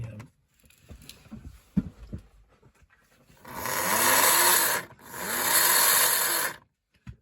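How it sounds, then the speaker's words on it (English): A Policar slot car motor, fitted in a refurbished Renault Alpine A110 Policar A92 model, whirs along the track in two loud sustained runs separated by a brief pause, preceded by quieter clicks and handling noises. "so the motor seems to be running well"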